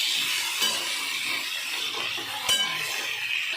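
Potatoes being lightly fried and stirred in a pan for aloo posto give a steady, close sizzling hiss, with a few brief metallic clinks from the spoon against the pan.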